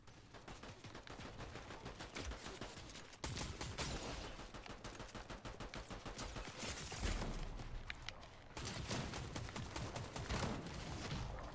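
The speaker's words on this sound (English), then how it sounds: "Who is shooting like that?" Rapid, dense gunfire from the Fortnite video game rattles continuously in loud automatic bursts, with brief gaps between volleys.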